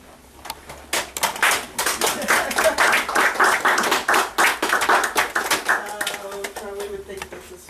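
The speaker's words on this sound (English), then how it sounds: "Charlie would think this is funny that we're clapping it as a memorial" An audience at a memorial reading claps together, a dense run of sharp hand claps that builds, holds for several seconds and then thins out and fades near the end.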